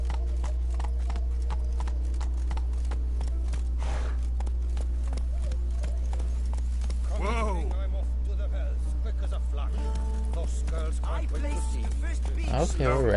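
Hooves of Roach, the horse in the video game Witcher 3, clip-clopping in a steady rhythmic gait, close and clear over a low constant hum, with brief vocal sounds near the end.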